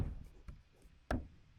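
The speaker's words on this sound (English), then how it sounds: "We're going to still knock it in with our sludge hammer." A sledgehammer knocks a tongue-and-groove OSB subfloor panel into place, giving sharp wooden thuds: a softer knock early, then two loud, close blows about half a second apart, with nothing between them.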